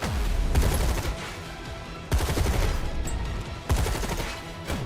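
Rapid booms and gunfire rattle in waves during an airstrike in the real-time strategy game Tempest Rising, three dense bursts of explosions that keep rolling loudly.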